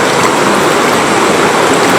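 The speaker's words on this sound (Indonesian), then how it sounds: "ini kondisi sungai seperti ini, harusnya yang di depan saya ini bukan sungai, melainkan sawah." A swollen river in Sumatra runs where rice fields should be, rushing loudly and steadily in a dense, unbroken roar with no voices.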